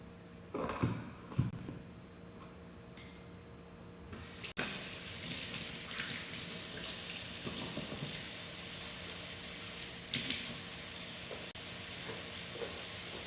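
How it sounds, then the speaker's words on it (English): A tap runs steadily indoors, a continuous broadband hiss of flowing water that starts abruptly after a few seconds of quieter handling noises and continues to the end. "sorry, the water's running here"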